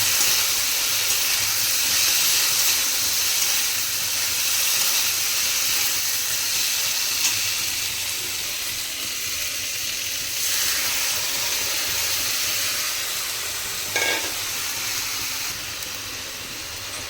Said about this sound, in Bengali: এরপর এর মধ্যে দিয়ে দেব মশলার বাকি ধোয়া জল